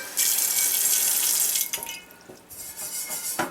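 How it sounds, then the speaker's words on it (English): Tap water runs hard and steadily into a carbon steel or cast iron pan for about a second and a half, then slows to uneven splashes and trickles. "Let's put a little bit more water in."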